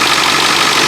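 A 2002 Ford F250 Power Stroke diesel engine idling steadily, a loud, close, continuous rumble with no voices over it.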